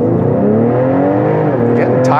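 A 2020 Ford Explorer ST fitted with an aFe Momentum GT intake launches hard in a 0-60 run, its rear tires slipping. The engine drone is loud, close and steadily rising in pitch.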